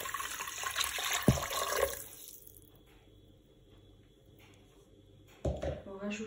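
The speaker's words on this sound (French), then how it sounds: "Je vais ajouter 1 litre d'eau." Water poured into a Cookeo multicooker pot for a Moroccan angel-hair soup, a splashy pour for about two seconds, quiet for a while, then a second brief pour near the end.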